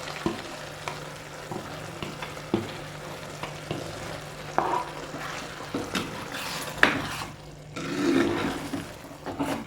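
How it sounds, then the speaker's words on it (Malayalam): Finely ground coconut paste for Onam theeyal being stirred into cooked potato and beetroot in a pan: repeated scraping and sizzling stirs at an uneven rhythm, close and fairly loud, swelling into a busier bubbling stretch near the end. "നമുക്ക് അരച്ച് വെച്ചിരിക്കുന്ന അരപ്പിട്ട് വെക്കാം."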